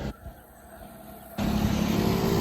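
A motorbike passes along a street in Hartford, Connecticut, its loud, steady engine roar swelling in abruptly partway through and holding close and strong to the end.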